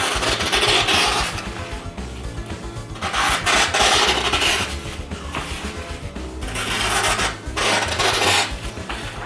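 A ZDP-189 steel knife slicing through rope: a rough, rasping sawing scrape repeats in uneven strokes, loud and close, with brief pauses between bursts of cutting.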